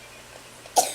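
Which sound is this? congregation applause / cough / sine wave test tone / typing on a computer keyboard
cough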